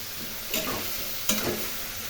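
Spices with red chilli powder sizzle in hot oil for a fish curry, a low steady fry broken by two soft bursts of stirring, close and quiet.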